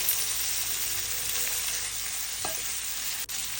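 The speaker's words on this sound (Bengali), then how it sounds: "আলুটি দিয়ে একটু সুন্দর করে একটু ভাজা ভাজা করে নেব" Potatoes fry with spices in a hot pan, a loud, steady broadband sizzle that holds throughout with a brief stirring scrape near the end.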